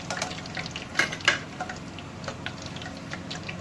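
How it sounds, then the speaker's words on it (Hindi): Pakoras frying in hot oil in a kadhai, a constant close crackling sizzle with sharper pops and a few light clicks near the start. "मैंने और पकौड़े इसमें डाल दिए हैं। अब इनको भी मैं फ्राई कर लूँगी।"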